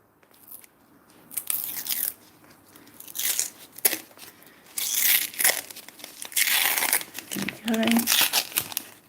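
Protective film is peeled off a perspex sheet with loud, close crinkling and tearing in irregular bursts, separated by brief quiet gaps, while a voice is heard faintly underneath.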